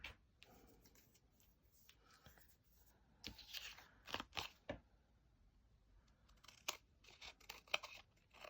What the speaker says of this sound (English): Just trim off all this excess.